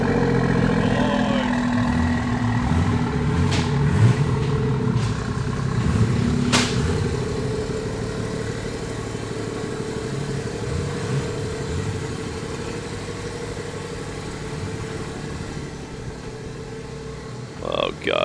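A tuned car running a 93 pump-fuel map sits strapped to a dyno, its engine droning at a steady idle-like hum for the whole stretch, close and fairly loud, with people talking faintly around it.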